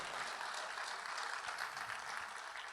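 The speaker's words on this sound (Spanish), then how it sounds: "Den un aplauso al Señor." Church congregation applauding during a sermon, a steady dense wash of clapping at moderate distance with no speech over it.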